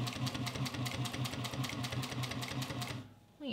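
A Juki 1541s sewing machine back stitches in a rapid, steady mechanical chatter of needle strokes that sounds close and loud, then stops abruptly near the end.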